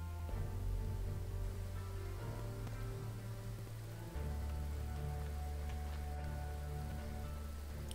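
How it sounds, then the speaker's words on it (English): Steady rain in the video game Graveyard Keeper, a soft, even hiss of falling drops over a low, constant background drone, continuous and fairly quiet throughout. "And it's raining."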